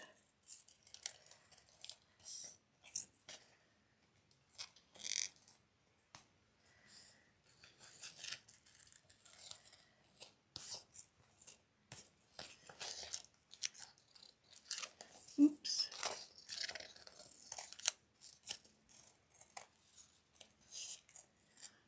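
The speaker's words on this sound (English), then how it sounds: "So I'm just moving the paper around the scissors." Scissors snip paper along a pencil line, the paper turned as it is cut, giving faint, close, irregular crisp cuts and rustles in a quiet room.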